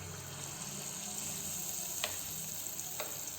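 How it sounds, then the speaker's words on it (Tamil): Appam batter deep-frying in hot oil gives a continuous bright sizzle, faint and steady, with a couple of small clinks or pops standing out briefly. "அதுக்கப்புறம் நம்ம எண்ணெயில் பொரித்து எடுத்துக்கலாம்."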